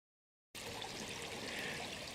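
After a brief silence, the headwaters of Naked Creek in Shenandoah National Park start rushing and babbling steadily, a close, continuous flow over rocks with no voices.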